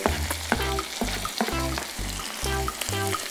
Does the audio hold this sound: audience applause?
no